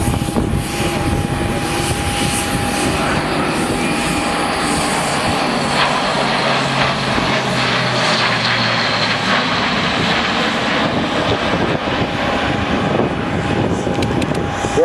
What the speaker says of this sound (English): The aircraft being turned in now into what will be a very tight 360-degree orbit in front of us.